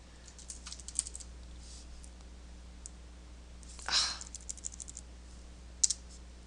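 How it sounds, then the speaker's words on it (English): Username typed on a computer keyboard while setting up a Hackintosh, sparse light key clicks spread out with one louder burst near the middle and a sharp tap near the end, close and quiet with no talking. "let's try and type in my username"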